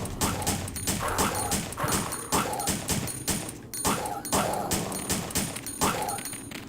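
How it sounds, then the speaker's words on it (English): Dogs in the Resident Evil Survivor video game bark and yelp in repeated sharp bursts mixed with gunshots, a rhythmic attack-like pattern roughly every second, loud and busy. "No, dogs!"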